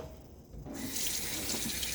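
Tap water gushes into a bathroom sink to wet the face before a shave, starting abruptly after a brief quiet moment and then running steadily, close and moderately loud.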